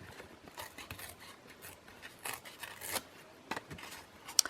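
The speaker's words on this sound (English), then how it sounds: "But we'll just rip it and then re-glue it down." Paper is ripped by hand for a journal card, making quiet, close, dry tearing and rustling bursts in short irregular strokes, with no talking.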